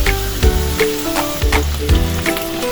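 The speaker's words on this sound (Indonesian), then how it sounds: "kita goreng kentangnya sampai matang ya teman-teman." Potatoes frying in hot oil while being stirred, giving a steady crackling sizzle with periodic louder scraping stirs about every half second, close and with no talk.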